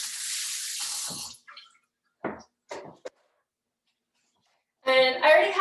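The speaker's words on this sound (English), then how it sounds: "Wash my hands real quick." Tap water runs into a kitchen sink as hands are washed before cooking banana almond chocolate chip muffins, a steady splashing rush at the start and again at the end, with brief soft knocks and handling noises between.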